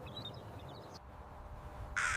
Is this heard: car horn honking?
no